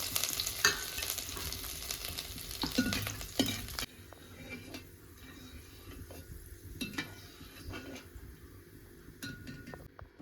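Chopped ginger frying in coconut oil for a traditional Kerala-style chicken roast, with a loud steady sizzle and stirring clinks for the first four seconds, then a quieter crackle with occasional utensil scrapes.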